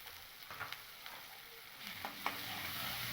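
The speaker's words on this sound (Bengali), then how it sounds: "আদা বাটাটা দেওয়ার পরে আমি এই মশলাটাকে কিন্তু খুব ভালো করে একটু ভেজে নেব" Ginger paste and tomato sizzle in a pan while being stirred for vegetable dal, a soft continuous frying hiss with a few light scraping strokes, quiet and without talk.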